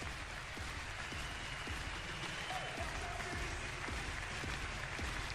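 Steady audience applause fills an arena at the 2019 gymnastics World Cup in Stuttgart, an even, distant wash of clapping from a home crowd, with a commentator's voice faintly over it.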